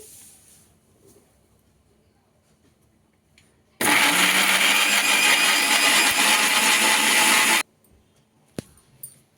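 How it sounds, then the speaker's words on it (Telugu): A mixer grinder with its lid on blends chopped tomatoes for an Andhra tomato chutney in one loud, steady roar lasting about four seconds, set between quiet stretches with a few small clicks. "మూత పెట్టుకొని మిక్సీ చేయబోతున్నా అండి"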